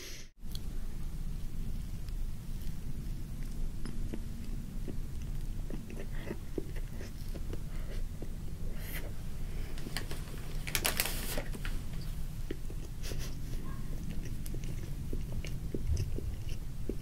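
Close-up bites and soft chewing of a sweet Costco roll cake, a steady run of small mouth sounds close to the mic with no talking.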